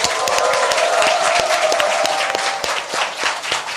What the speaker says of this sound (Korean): 여러분의 힘찬 박수와 환호와 함께 시작하겠습니다